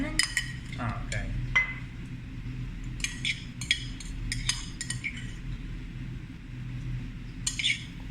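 A spoon stirs sugar into a Vietnamese dipping sauce of vinegar, chili and lemon in a bowl, giving repeated light clinks and scrapes against the dish over a low steady background hum.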